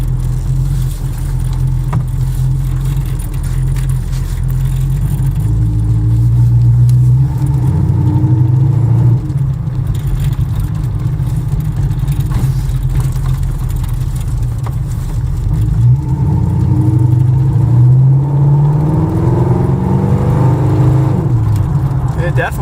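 A 1935 Ford Flatback sedan with a 350 small-block V8 and automatic transmission drives along, its engine droning steadily and rising in pitch as it accelerates and shifts, while someone talks over it throughout.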